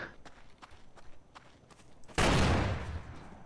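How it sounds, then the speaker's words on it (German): Faint scattered clicks and steps in the video game Grand Theft Auto give way to a sudden loud gunshot burst that rings out and decays over the following second. "Auf mich wurde geschossen."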